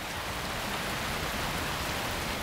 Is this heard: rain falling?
yes